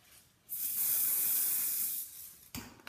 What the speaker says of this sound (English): just put some hairspray to seal the color in place.